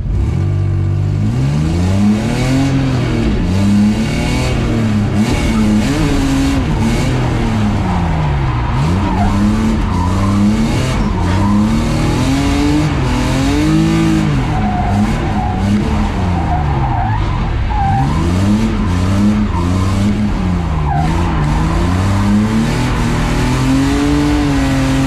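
A BMW E30 drift car on a track revs hard and continuously, the engine pitch swooping up and down in repeated waves as the tyres squeal and skid through the corners, loud and close throughout.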